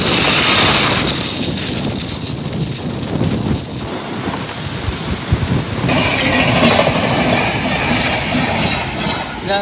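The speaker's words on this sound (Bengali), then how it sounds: "ট্রেন চলে গেল ট্রেন চলে গেল" A train rushes past close by outdoors, a loud, continuous broadband roar with heavy wind buffeting on the microphone that stays strong for the whole stretch.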